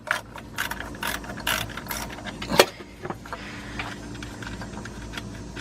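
Ratchet with a 10mm socket loosening an ignition coil nut on a Honda Pilot engine, a series of quick clicking pawl bursts with a sharp metallic clink midway, close and moderately quiet.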